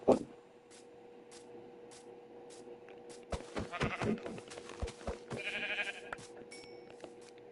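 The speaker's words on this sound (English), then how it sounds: "Another sheep." Several sheep bleats stand out over a quiet background, with scattered sharp clicks and thumps in between.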